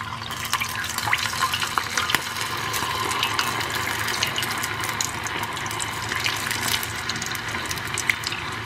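Potatoes for chilli potato deep-frying in hot oil make a steady, dense bubbling hiss with scattered crackles, fairly loud and continuous throughout with no talk.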